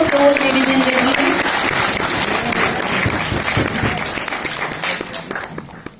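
Loud, sustained applause from a conference audience fills the hall for about six seconds, dense and steady before thinning out at the end.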